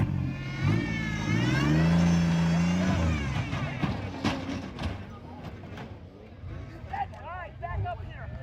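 A race car engine roars at a dirt track under the lights, a loud sustained revving that rises and falls, with an excited voice talking over it.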